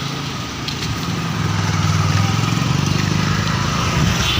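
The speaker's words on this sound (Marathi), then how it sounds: "आणि रिक्षा आली आमची" An auto-rickshaw pulls up with its small engine puttering in a rapid, even beat that grows louder and closer as it arrives.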